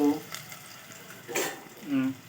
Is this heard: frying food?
yes